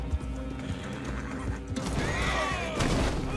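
A horse in the video game Red Dead Redemption 2 neighs loudly with hooves pounding, then a crash and rising whinny as it slams into a man, the din swelling near the end.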